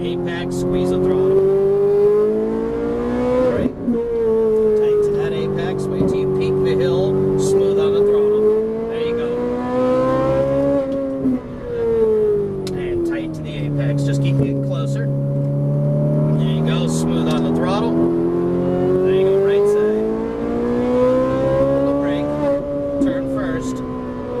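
Ferrari 458 Italia engine on a driving run, a loud, close engine note that rises and falls through several cycles as it brakes and downshifts, with rev blips between gears and frequent talk from a driving instructor over it.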